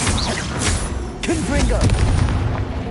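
Confringo fire-blast spells in Hogwarts Legacy boom in a dense, loud barrage of explosive bursts and crackles, with a voice speaking over the game sounds.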